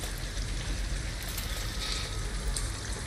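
Steady rain in Detroit: Become Human, a dense, even hiss of drops falling on surfaces, constant and moderately loud with no talk.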